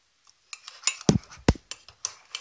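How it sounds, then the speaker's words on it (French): Mug cake batter with a whole egg being stirred in a mug, a spoon tapping and scraping against the sides in a quick irregular series of clinks, close and fairly quiet. "Là il faut bien mélanger parce que comme nous avons rajouté l'œuf, la pâte n'est pas encore homogène"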